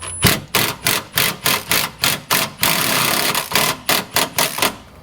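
Hand ratchet working 12 mm six-point bolts on the rear brace of a Mazda 6, a rapid, even run of loud clicking bursts close up, broken by one brief longer stretch of continuous grinding rattle.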